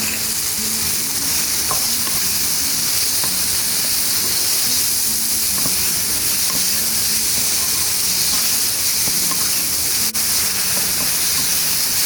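Spices and salt sizzle in a hot pan while being stirred for an okra (bhindi) masala. A constant loud frying hiss runs throughout, with faint scrapes and taps from the stirring.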